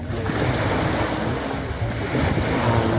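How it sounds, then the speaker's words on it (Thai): Ocean waves wash continuously onto a beach at Samae San Island, Chonburi, Thailand, a broad rushing surf with some wind noise, no voices. "น้ำทะเลก็ยังอยู่นะครับเสียงคลื่น"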